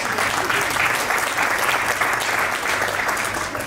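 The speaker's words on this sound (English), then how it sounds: "a round of applause for the tribe, please" An audience at the 10th Australian Muslim Achievement Awards show breaks into steady, dense applause, a loud wash of many hands clapping together without pause.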